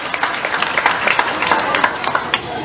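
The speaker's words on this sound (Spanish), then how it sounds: "Regalémosles otro aplauso, pero más fuerte a estos pequeños" At a school civic ceremony in Cabañas, Copán, an audience applauds the children with brisk, close clapping. Many sharp hand claps blend into a continuous wash that stays steady throughout the short stretch.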